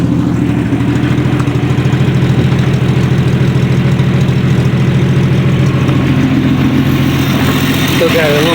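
A 170 cubic inch slant-six engine with a makeshift scrap exhaust pipe idles steadily with a low, rough rumble and rapid uneven pulsing, loud and close throughout, with a brief higher whine near the end.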